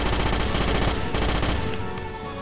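Sustained automatic gunfire from the Starship Troopers video game, loud dense rapid bursts rattling continuously for a couple of seconds, easing slightly toward the end, with no talk.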